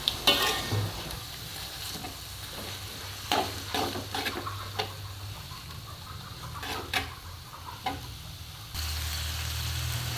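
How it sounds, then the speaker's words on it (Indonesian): Beef stirred and sautéed in a pan for a semur stew, with repeated spatula scrapes and clanks over a constant sizzle, close and fairly loud, the frying swelling louder near the end. "Lanjut, kita masukkan daging sapinya. Aduk, tumis sampai merata."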